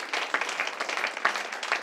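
A small church congregation claps in a brief scattered round of applause, moderately close and fairly light, with a few sharper individual claps standing out.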